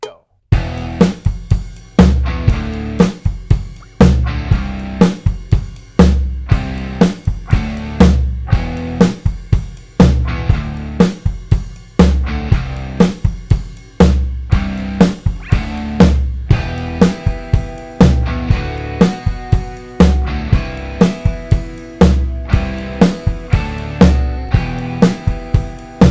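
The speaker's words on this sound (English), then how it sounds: "you can play a big quarter note and not come back to the ride cymbal on the and" A full drum set plays a steady groove on ride cymbal, snare and kick, with a big quarter-note accent on beat four instead of the ride on the and of four. The pattern repeats loudly for about twenty-six seconds, with no talking.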